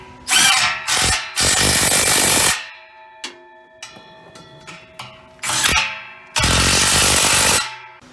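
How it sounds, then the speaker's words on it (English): A 3/8 cordless impact wrench tightens exhaust bolts while installing a Borla S-Type catback on a Ram 1500 with the 5.7 Hemi: loud, close hammering bursts, two short then a long one, a pause with small clicks, then two more bursts. "I'm just going to kind of ram it home with my 3/8 cordless impact"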